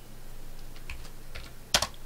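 Light clicks of keys on a computer keyboard, a few scattered taps followed by a quick louder burst of two or three keystrokes, close and alone in a quiet room.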